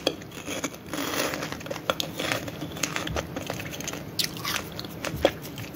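Crunchy Cheetos Bolitas chile and cheese snack balls being chewed close to the mouth, steady crisp crunching with occasional bag crinkles and no talking.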